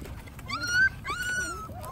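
A young K9 puppy whimpers in a few short, high, rising whines, close and fairly clear over a low background hum.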